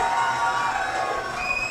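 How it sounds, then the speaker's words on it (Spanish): Studio audience on a talk show cheers and calls out to greet an arriving guest, a sustained blend of voices with whistle-like tones, ending in a sudden loud burst. "lo vamos a presentar y a recibirlo con un fuerte aplauso"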